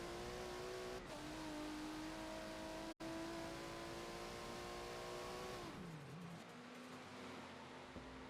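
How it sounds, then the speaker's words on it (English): Ford GT race car on an on-board lap at Virginia International Raceway in a racing game: a loud, sustained engine drone holding steady pitch, then dipping on a downshift and climbing again, with no talk. "ride on board silently for a lap with the Ford GT of ludicrous speed"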